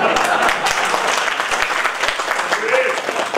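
Audience applause at a patriotic veterans' event in Odisha, India: a dense burst of clapping from a crowd, fairly loud and continuous, with some voices mixed in.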